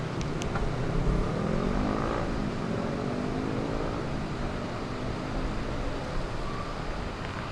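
A 2015 Ford Ranger 2.2 4X4 XLT double cab's engine comes to life and settles into a steady, even running hum with a broad noisy wash, fairly close and alone with no talk.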